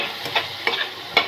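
Chopped tomatoes sizzle in a hot pan as they are stirred, a soft frying hiss broken by about four quick scraping strokes of the spoon, close and clear with nobody speaking.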